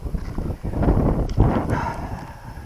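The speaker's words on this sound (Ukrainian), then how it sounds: "Шановні, знову сильний вітер, тому я знов сховався в машину" Strong wind buffets the microphone in a steady low roar with gusty swells, close and loud, with no voices, beside a village pond.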